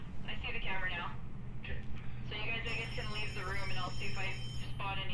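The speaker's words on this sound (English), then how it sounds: "Oh, what was that? That's the phone." An in-game telephone rings in the horror video game Phasmophobia, a thin steady tone entering partway through beneath ongoing conversation between players.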